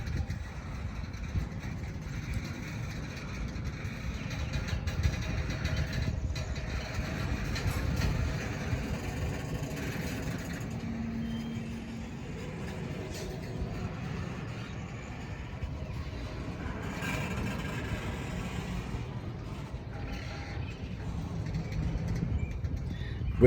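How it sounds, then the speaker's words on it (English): A CSX freight train starts to roll, a low continuous rumble of heavy cars with faint creaks and metallic strain over about twenty seconds, moderately distant, with occasional birds in the background. "the beast started to roll again, as you hear the strain and the creaks of the stress going through the veins of this train"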